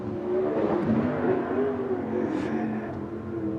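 Sprint car engine revving hard during a time trial lap on a tough track, a loud sustained roar that shifts in pitch as the car accelerates, heard alone without commentary.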